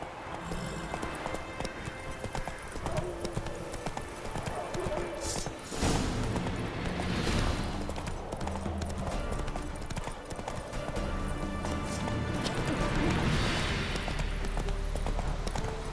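Roach, a horse in the video game The Witcher 3, gallops with steady, rapid hoofbeats under continuous game music and effects, while voices speak over the action.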